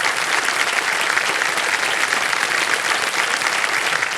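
Audience applause in a quiz show studio, a dense, continuous wash of clapping from a large crowd, steady and fairly loud throughout.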